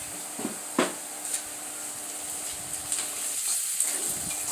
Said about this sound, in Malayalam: സവോള വഴണ്ട് വരുമ്പോഴത്തേനും അതിലേക്ക് നമുക്ക് ക്യാബേജ് ആഡ് ചെയ്ത് കൊടുക്കാം